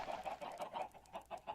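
Many chickens cluck together in a Minecraft-style video game, a dense, rhythmic chorus of short clucks repeating in quick bursts, moderately close and with no talking.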